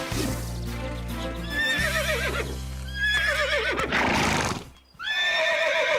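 A horse whinnies repeatedly at close range over steady hoof clip-clops, its shrill, wavering neighs rising above the rhythmic footfalls, with a brief pause before a final call.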